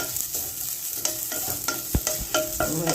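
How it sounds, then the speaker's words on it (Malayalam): Grated coconut roasting in a pan, a quiet sizzle under repeated scraping and stirring strokes of a spatula, with a few sharper knocks against the pan. "തേങ്ങ ഇതിലിട്ട് കണ്ടൊന്ന് ചെറുങ്ങനെ വറുത്തെടുക്കുക"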